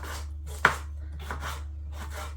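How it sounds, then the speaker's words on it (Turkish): A knife chops hot peppers on a cutting board in slow, separate strokes, one sharper knock standing out, over a low steady hum. "Şu şekilde şöyle doğrayacağım."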